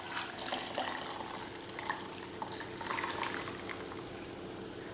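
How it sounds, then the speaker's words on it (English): Homemade beer gravy being poured through a sieve into a jug, a soft, continuous liquid splash and trickle at low level with no talking. "now all I'm going to do is pour it through a sieve into a jug"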